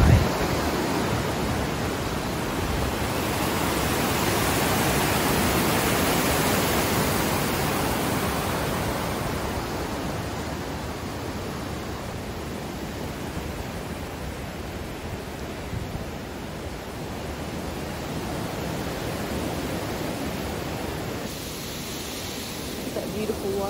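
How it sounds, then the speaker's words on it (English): A waterfall pours over a dam in a steady broadband roar, loudest in the first few seconds, then settling into a constant rushing wash. "That beautiful waterfall. It's a dam, but I just think that is so beautiful."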